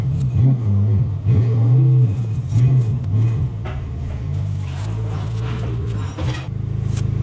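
A car is driven into a workshop after a track day at Mandalika, its engine a steady low rumble with brief revs and faint clatter, close and continuous with no talk.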